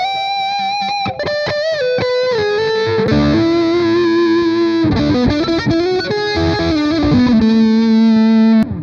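Electric guitar through an Amplitube 5 Mesa Boogie amp model on lead voicing, a saturated, singing lead line with bends and sustained notes, loud and continuous, no voices.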